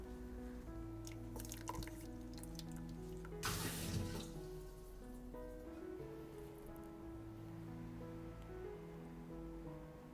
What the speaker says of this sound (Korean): 찬물에 헹궈 물기를 꾹 짜줄게요.